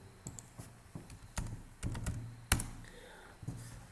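Python code being typed on a computer keyboard: quiet, irregular key taps in short bursts with one sharper clack near the middle, close and alone without talk.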